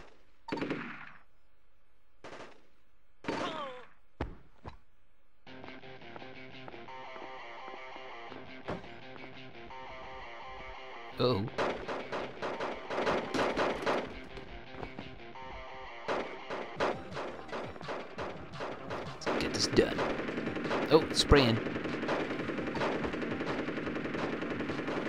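Gunfire from the PlayStation 2 video game V.I.P. opens with a few isolated shots, then rattles into dense, sustained machine-gun bursts with loud peaks toward the end.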